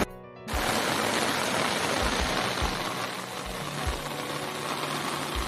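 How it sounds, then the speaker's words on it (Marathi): Heavy monsoon rain in a Konkan village, a loud continuous rush of falling water with occasional low thumps, close and steady, no voices heard. "पाऊस जोरात सुरू झाला आहे।"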